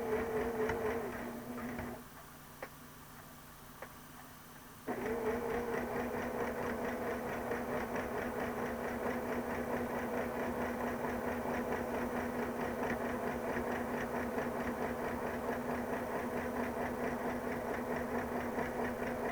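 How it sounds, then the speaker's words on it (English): A sewing machine stitches green sashing onto a quilt block with a steady mechanical whir and rapid needle rhythm, briefly slowing near the start before running continuously at close range. "I'm going to line it up with the edge of my block. And I'm going to sew it on."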